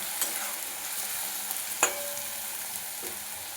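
Onion frying with ginger garlic paste for mutton ghugni produces a soft, even sizzle in the pan. A few faint utensil taps come through, one slightly clearer near the middle, and the whole stays fairly quiet, with no speech.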